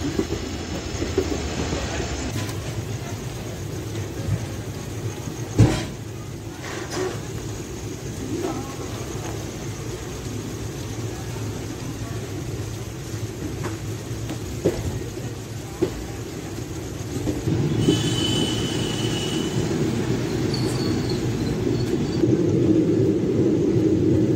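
Train 17603 runs from Kacheguda toward Yelahanka, carrying a continuous rumble with scattered clacks and knocks of the wheels over rail joints, and the running noise grows louder near the end.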